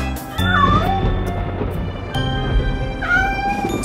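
Sung cat meows in a French children's Halloween song about three little kittens, a couple of tonal meow-like cries riding over a steady musical backing.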